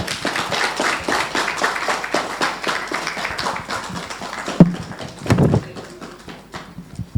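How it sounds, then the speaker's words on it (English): Audience applause at a Ghana press briefing on a gun amnesty, a dense run of clapping for several seconds that thins out, with a few louder thumps near the end. "Another round of applause."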